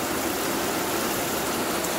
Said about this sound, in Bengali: পাহাড়ের বৃষ্টি এই প্রথমবার আমি দেখছি